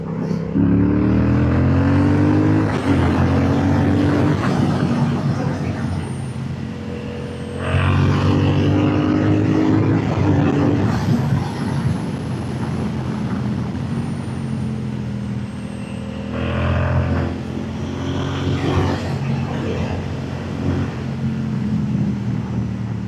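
Triumph Speed Twin RS motorcycle accelerating hard, a loud, close engine roar rising through revs across several gear pulls with brief dips between shifts, sustained throughout.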